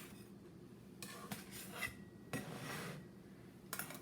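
Two metal spatulas scrape and lift poppyseed coffee cakes off a baking pan, giving quiet, close scrapes and clinks in several short bursts with soft pauses between.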